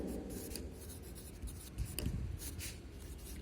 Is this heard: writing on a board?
yes